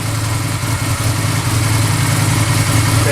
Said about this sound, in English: Now, listen to your bike.